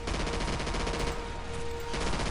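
Sustained gunfire in the video game Call of Duty 4 Modern Warfare, a loud, dense stream of shots running continuously with a steady electronic tone underneath and no talk.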